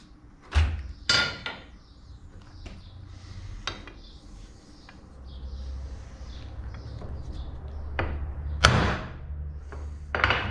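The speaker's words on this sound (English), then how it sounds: "So what I want to do now is hammer it again and recheck." Several sharp metallic hammer strikes on a Scout 648 stroker engine flywheel, spaced irregularly, with quieter taps in between over a low background hum.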